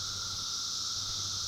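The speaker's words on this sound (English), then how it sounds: "The sounds you hear are male brood 2 magicicada periodical cicadas attempting to find" Male Brood II periodical cicadas call in a dense, unbroken high-pitched chorus, loud and steady throughout with no pauses, filling the whole moment alone.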